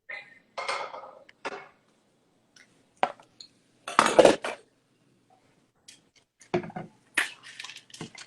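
Pans of sautéed food are lifted off a stovetop burner: scattered metallic clanks and clinks of cookware and utensils in short, separate bursts with quiet gaps between them, fairly close by.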